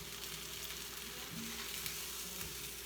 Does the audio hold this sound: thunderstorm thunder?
no